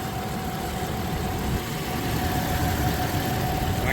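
A Toyota 1GR-FE engine idles with a steady, continuous running drone and a faint tonal whine, heard close and alone without speech, staying even throughout.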